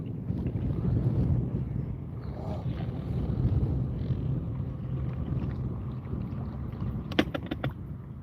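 Steady low wind rumble buffets the microphone over open water, with a few faint knocks and splashes near the end.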